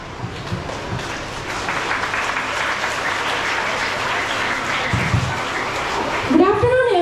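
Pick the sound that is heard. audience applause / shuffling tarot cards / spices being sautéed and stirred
audience applause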